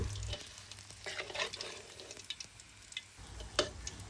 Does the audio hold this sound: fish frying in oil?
yes